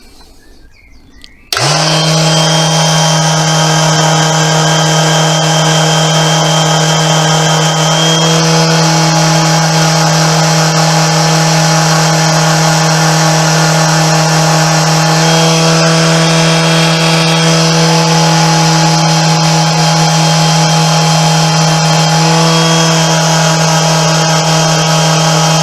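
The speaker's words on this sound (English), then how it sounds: "It's just sanding the filler all the time." Electric sander working over wood filler on a cottage-style coat rack, a loud steady whining hum that starts abruptly and runs continuously with slight shifts in pitch, close and alone.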